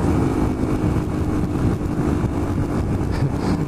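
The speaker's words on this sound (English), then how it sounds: "With this exhaust blowing, it backfires a little bit as well on deceleration, which is quite cool." Motorcycle with a blowing exhaust riding on the road, engine droning steadily and close, with backfires on deceleration that are not clearly picked out.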